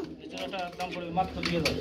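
Racing pigeons coo softly in a low, throaty rolling call, repeated a few times close by, with faint background noise.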